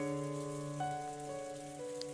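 Steady rain patters softly in the background of the Umineko visual novel game, a faint continuous hiss beneath a sustained, droning musical tone.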